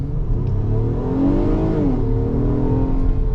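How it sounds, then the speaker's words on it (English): A 2025 Acura MDX Tech Pack SH-AWD in sport mode pulls away from a stop at full throttle, its engine note loud and steady, rising in pitch as it climbs through a held gear, heard from inside the cabin. "we'll come to the stop and then we'll go ahead and floor it"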